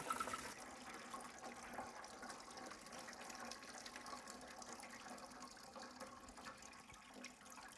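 Radiator coolant drains out of a car in a continuous faint stream of trickling liquid, steady and unbroken, with no talking.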